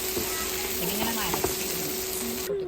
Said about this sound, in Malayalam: ആ മസാലയും ചെമ്മീനൊക്കെ ഇട്ട് നല്ലപോലെ ഒന്ന് മിക്സ് ചെയ്യണം.